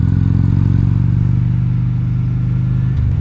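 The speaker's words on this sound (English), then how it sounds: "This bike seems to be running pretty good" A motorcycle fitted with KST custom handlebars runs steadily with a loud, close, even engine drone and a faint rhythmic pulse, slightly dipping near the end, with no voices.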